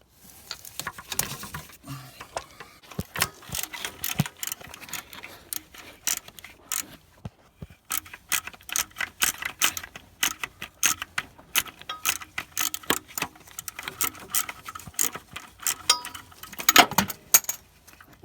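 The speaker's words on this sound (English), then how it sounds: "this bolt right here, it's a 13 mil. That's the one we're going to loosen, and that's going to release the tension on the alternator belt." A ratchet loosens the 13 mm alternator belt tensioner bolt on a second-generation Dodge Neon, sounding as rapid, irregular metallic clicking bursts that run through most of the stretch, close and fairly loud, with no talking.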